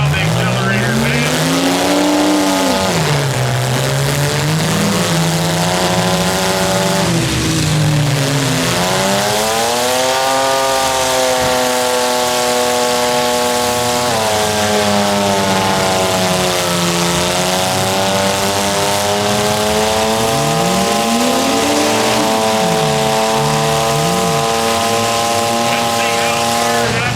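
A demolition derby van, the turtle van, at the 2025 Beeton junk run demolition derby revs loudly as it accelerates. Its engine pitch climbs and falls in repeated surges over a steady rumble, with voices faintly underneath.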